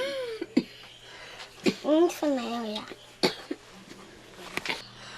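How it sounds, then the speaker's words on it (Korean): Several harsh coughs, near and spaced apart, break up brief talk in a quiet room. "기침도 심합니다"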